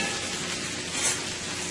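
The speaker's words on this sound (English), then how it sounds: "This is a 14-inch skillet that I'm cooking my stir fry into." Chicken, broccoli and cabbage stir-fry sizzles in a 14-inch skillet, a dense, steady close-up hiss with a slight swell near the middle, no talking over it.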